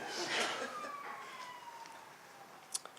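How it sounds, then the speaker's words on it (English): A siren passes outside a building, a faint falling wail drifting downward through the clip behind quiet room tone, with a brief sharp knock near the end. "I'm not talking about the siren that's going by the building at this point in time"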